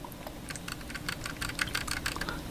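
Quick, light mouse-button clicks repeat in an uneven rapid series, close up and crisp over a faint background hiss.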